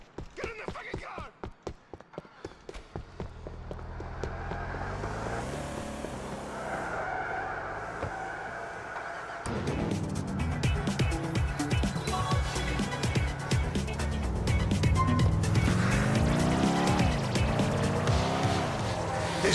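Cars in Grand Theft Auto rev and speed along with tires repeatedly squealing and skidding, loud and continuous, layered with game engine drone and impacts.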